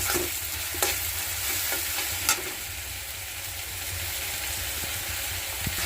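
Egg and potato frying lightly in a pan over an onion, chili and garlic paste, a dense continuous sizzle with a few sharp clicks of a utensil against the pan.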